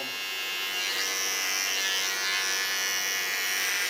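A small electric hair clipper buzzing steadily up close as it cuts hair, its whine rising slightly when it meets the hair, with no speech.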